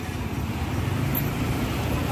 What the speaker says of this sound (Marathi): गाड्यांचा आवाज येतोय.